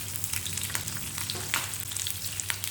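Beef pieces frying in a pan for a beef roast, a steady close sizzle with scattered crackling pops and no voices.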